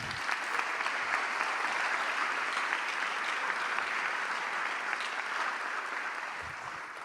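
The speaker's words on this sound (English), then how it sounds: "Please join me in giving them a round of applause." A large school audience applauds staff at a high school awards evening: a dense, steady wash of clapping that holds at full strength for about seven seconds before easing slightly, with no voices over it.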